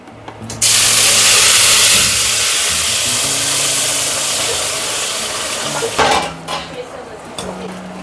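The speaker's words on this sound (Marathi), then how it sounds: "आता मी काळा मसाला मिक्सरमधून काढून घेतला. आता त्याला फोडणी देऊन घेते." Black masala tempered in hot oil for a puran poli thali, a loud sudden sizzle bursting in and holding steady for several seconds, then easing with a few clinks of a pan or spoon, no talk over it.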